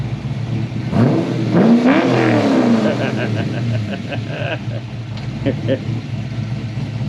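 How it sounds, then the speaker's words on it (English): A Mk4 Toyota Supra engine idles loudly and revs with a rising then falling pitch, while a voice speaks briefly over the rumble. "Give us a rev."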